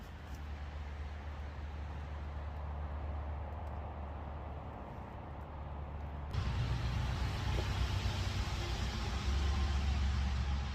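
Cars pass on a highway in a continuous broad road roar heard from a roadside camp, moderate at first, then suddenly louder and fuller partway through, with no voices.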